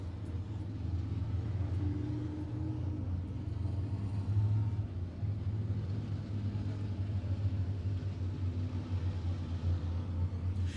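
Race cars rumble steadily at Monett Motor Speedway ahead of an A feature, a continuous low droning engine roar from several cars at moderate distance, with no voices.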